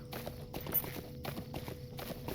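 A horse's hooves clip-clop steadily in Lord of the Rings Online, a quick even rhythm of faint hollow knocks during a ride, with no talking.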